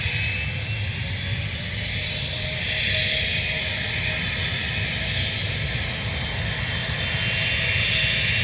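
An airplane lands at Dublin Airport, its engine roar a steady broad rumble and hiss at moderate distance that swells briefly midway.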